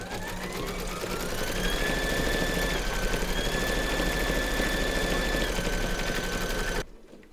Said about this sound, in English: pop your hoop into your machine and stitch round number 10 to secure it